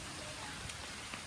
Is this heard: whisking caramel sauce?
no